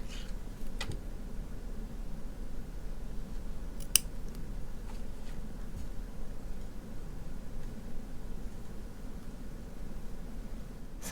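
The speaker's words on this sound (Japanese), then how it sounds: "長めに残っている場合にはハサミで切って" Scissors snip leftover yarn during knitting of a cardigan, giving a few sharp, close clicks against a steady hiss of background noise, with no talking.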